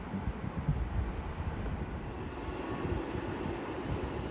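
A train arriving at Watford Junction station on the West Coast Main Line, a continuous low rumble of wheels and engine that stays steady and fairly close.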